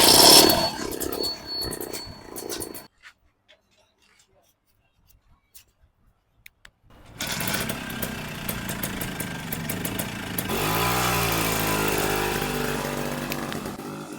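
An old Rajdoot motorcycle engine sputters, stalls into near silence with a few faint clicks, then fires up and runs with a rough, steady rumble and revving.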